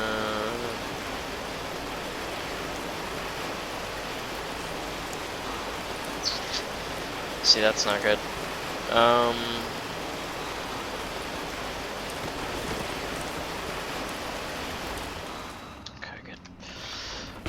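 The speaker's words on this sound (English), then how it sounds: "The rain's real loud." Heavy rain in the video game Cataclysm: Dark Days Ahead, a loud, steady hiss of downpour running almost the whole time, with a voice briefly talking over it before it cuts off near the end.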